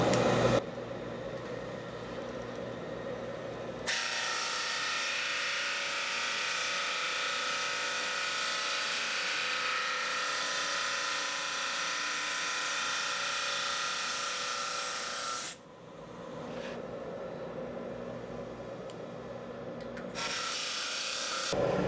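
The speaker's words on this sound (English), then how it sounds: "So we'll go ahead and sand that to dimension." Sanding acoustic guitar back braces down to thickness, a close continuous abrasive whirr of a powered sander on wood that runs for long stretches with brief pauses and restarts.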